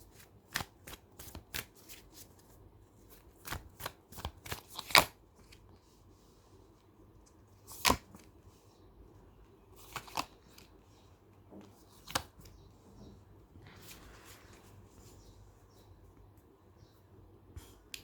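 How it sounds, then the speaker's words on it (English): Tarot cards being shuffled by hand, a series of sharp riffling snaps and soft sliding flutters spaced irregularly, quiet and close with near silence between bursts. "Let me give it a better shuffle"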